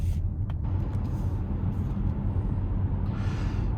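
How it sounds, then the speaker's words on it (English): Steady low road rumble of wheels and tires inside a 2023 Mazda CX-50 Turbo while driving, a constant dense drone with a brief hiss near the end and no talking. "But you do definitely notice some wheel noise and tire noise sometimes."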